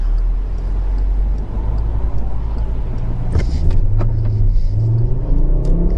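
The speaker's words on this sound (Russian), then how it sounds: "Резкая пробуксовка с места, немножко сорвались, но 92-100 есть." A Volkswagen Passat B7 with the 2.5-litre CBTA engine launches hard from a standstill with wheelspin, its deep engine rumble rising in pitch as it accelerates loudly and close by.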